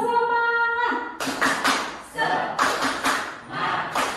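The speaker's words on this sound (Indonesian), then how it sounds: "Tepuk semangat, semangat, semangat." An audience at an Indonesian school training session beats out the rhythmic 'tepuk semangat' clap in several loud bursts of group clapping, following a sustained sung or chanted tone at the start.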